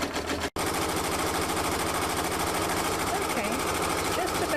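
An embroidery machine runs steadily, stitching the side of a cap held in a Durkee hat hoop; its dense mechanical rattle is close and continuous after a brief cut-off near the start.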